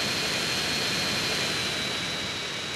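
A stolen military jet roars in GTA San Andreas, a loud, constant engine rush with a thin steady whine on top, close and unbroken with no speech.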